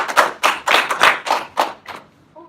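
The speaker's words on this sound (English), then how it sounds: "Let's give her a round of applause." A small audience claps after a hypnosis demonstration, a short burst of about seven distinct, close hand claps in uneven rhythm that quickly fades out.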